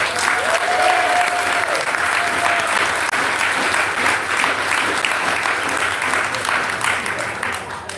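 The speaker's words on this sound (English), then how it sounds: "want to hear a big round of applause for our mayor again" Crowd applauding the mayor at a community event against gun violence, a sustained wash of clapping with cheering and a whistle rising above it early on, fairly loud and continuous before easing slightly at the end.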